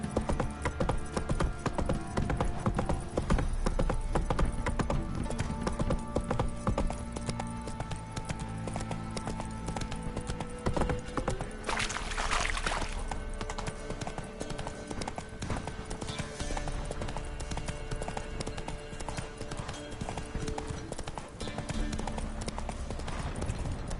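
Rhythmic clip-clop of a horse's hooves galloping across the ground in The Witcher video game, a steady fast beat running under the game's music and ambience for the whole stretch, with a brief louder swell midway.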